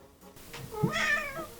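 A male pet cat lets out a single drawn-out meow, close and clear, rising and then falling over about a second against a quiet room.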